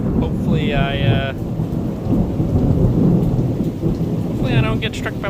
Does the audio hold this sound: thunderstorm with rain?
yes